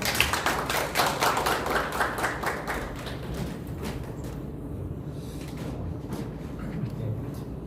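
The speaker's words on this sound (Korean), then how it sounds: "박수로 맞아주십시오" Scattered applause from a small seminar audience in Korea, clapping that starts fairly strong and gradually thins out to a few sparse claps as a speaker is welcomed.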